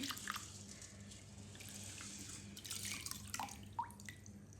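Water drained from washed rice trickles and drips quietly as it runs away, with a few distinct drops standing out near the end; no talking.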